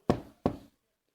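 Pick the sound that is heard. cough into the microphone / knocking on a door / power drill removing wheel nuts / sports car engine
knocking on a door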